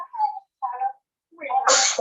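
A person sneezes, with a sharp burst at the end following two short voiced sounds, close and fairly loud in a quiet room.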